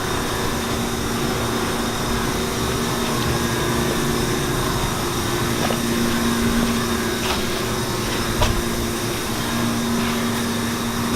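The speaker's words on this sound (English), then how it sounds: "It's the John Deere 430 and it's got a small, looks like 3-cylinder diesel." A John Deere 430 tractor with a small three-cylinder diesel idles steadily and loudly nearby, a constant droning hum with faint tonal whine and no speech over it.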